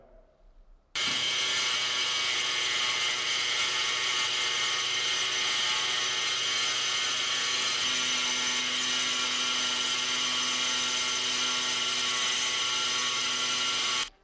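An angle grinder mounted on a Mechanic Slider 45 Pro cutting ceramic tile, starting abruptly after a second of quiet and holding a loud, high, steady whine with a grinding edge until it stops at the end.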